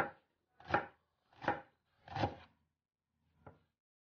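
Onion being chopped on a cutting board, four distinct knife strokes in an uneven rhythm, the last one lighter, close and clear with silence between them.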